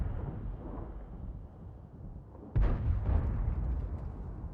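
A World of Tanks tank gun fires once, a sudden heavy boom with a rumbling tail, breaking through low steady engine and battlefield rumble.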